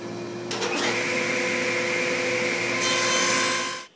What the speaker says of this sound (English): We'll go ahead and make those kerfs.